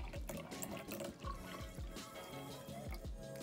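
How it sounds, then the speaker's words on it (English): Cold water pours steadily into a cup, a soft continuous splashing and gurgling with rising tone, fairly quiet and close, with no talking. "So I'm pouring the cold water."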